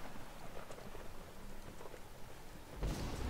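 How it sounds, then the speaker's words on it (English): Thunderstorm weather in the video game Skyrim, with a lightning mod, plays as a steady wash of rain and low rumble, then a louder thunder crack bursts in near the end. "Thunderstorms feel like thunderstorms and the lightning felt kinda scary."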